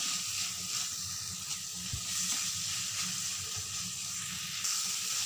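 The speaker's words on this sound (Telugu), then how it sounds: "బాగా ఈ విధంగా ఫ్రై చేసుకోవాలండి." Food frying steadily in a pan on the stove for a channa masala curry, a continuous sizzling hiss with faint stirring scrapes, close and even throughout with no talk.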